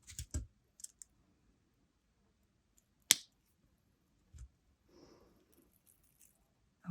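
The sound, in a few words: cutting off excess wire with cutters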